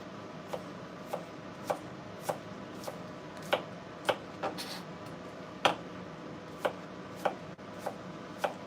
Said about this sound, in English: So I'm basically slicing this onion small.